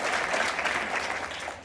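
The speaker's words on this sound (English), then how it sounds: "Yes, please clap for that." Applause from an audience at a speech, a brief, dense wash of many hands clapping close and steady throughout, tapering slightly at the end.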